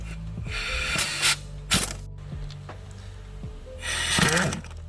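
Ratchet fitted with a 1/2 inch to 3/8 adapter and a swivel loosening tight axle nuts on a 2013 Audi Q5, giving a few sharp clicking and clacking bursts over a low mechanical hum, close by with no talk.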